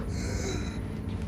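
Inside a sealed lifepod full of stale, metal-tasting air, a person draws one short, strained, gasping breath against a steady low mechanical hum.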